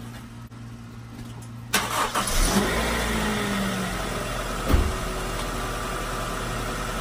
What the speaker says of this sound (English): Let me start it up and let you hear it run